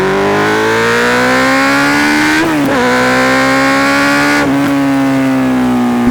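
A Honda CB 650F four-cylinder motorcycle revs loudly and close up, its engine note rising steadily, dipping sharply twice at gear shifts and climbing again, with no voices over it.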